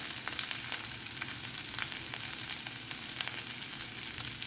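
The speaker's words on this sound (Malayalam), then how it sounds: "എണ്ണ ചൂടാകുമ്പോൾ വെളുത്തുള്ളി ചെറുതായി അരിഞ്ഞത് ചേർക്കുക." Chopped garlic and two green chillies fry in hot oil, giving a soft, continuous sizzle with scattered small crackles and pops, heard up close and alone.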